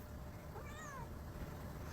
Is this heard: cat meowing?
yes